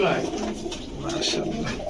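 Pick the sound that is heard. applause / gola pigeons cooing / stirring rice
gola pigeons cooing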